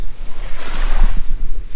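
Wind gusts buffet the microphone at a river beach, rumbling and surging unevenly for a couple of seconds, mixed with a faint watery wash.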